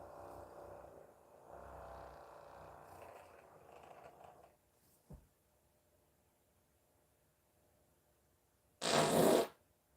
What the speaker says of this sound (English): this is one of the greatest farts I ever let out.